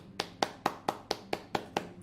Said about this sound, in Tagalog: Palakpakan nyo naman.